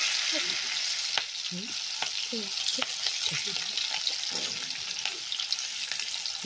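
Onions frying in a pan for chicken curry, a soft continuous sizzle with repeated utensil clicks and taps, while a voice murmurs faintly in the background.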